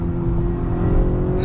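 A 2021 Honda Accord 2.0T Sport's turbocharged engine revs steadily under acceleration, a loud, continuous droning hum heard close from inside the car with no talking.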